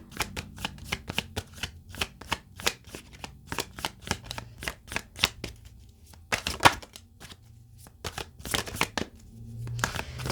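Rapid riffle shuffles of a deck of cards, bursts of crisp flutters repeating steadily throughout, close and fairly loud with no talking.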